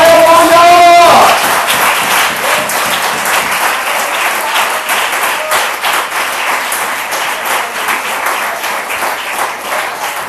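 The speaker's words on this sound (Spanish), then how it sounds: "Den un aplauso a la gloria de Jehová." A church congregation bursts into sustained applause during a Spanish-language sermon, loud, dense clapping that carries on steadily for about ten seconds after a brief tonal vocal sound at the start.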